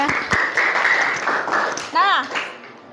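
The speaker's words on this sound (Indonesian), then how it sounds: "Kasih tepuk tangan untuk Vino." A classroom of students claps for a classmate, brief scattered applause under a teacher's talk and children's voices.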